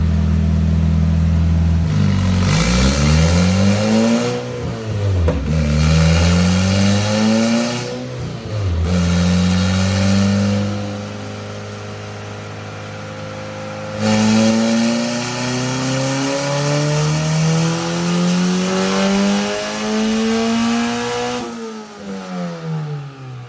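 A Porsche 911 fitted with a swapped Honda K-series engine revs hard through repeated VTEC pulls on a dyno, its loud, rising engine note climbing and dropping back between each run and held through one long final pull.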